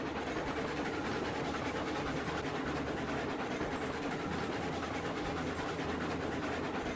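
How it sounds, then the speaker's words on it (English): Train in the Railroads Online video game during its winter update rolling past, a continuous dense rumble with rapid rhythmic clatter, loud and steady throughout with no talk. "Train's coming right now."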